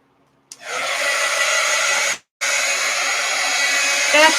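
A hair dryer blows air onto a freshly worked art journal page, a steady loud whoosh that starts abruptly, cuts out briefly for a moment, then resumes and runs on without talk.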